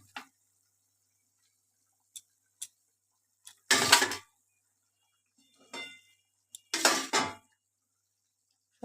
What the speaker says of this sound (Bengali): এই যে ঝোলের মধ্যে দিয়ে দিচ্ছি মাছগুলো।